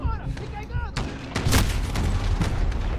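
Gunfire in Call of Duty: Modern Warfare (2019) on realistic difficulty, with booming rifle shots and blasts over a dense game soundscape while a player talks during the first part.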